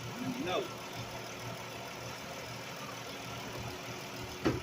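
A 2011-23 Dodge Challenger's engine idles steadily after being cranked, a continuous low mechanical hum with a brief louder burst near the end, and faint voices in the background.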